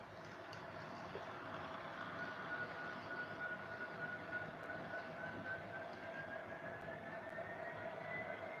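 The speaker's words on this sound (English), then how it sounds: "this one's a Walther's mainline with soundtracks on it." A Walthers Mainline model train running with its onboard sound, giving a steady, continuous engine rumble with a faint rising whine, heard without talk throughout.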